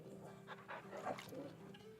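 A large dog in the video game Final Fantasy 16 pants in quick breathy puffs, with soft whimpering notes mixed in, fairly close but moderate in volume.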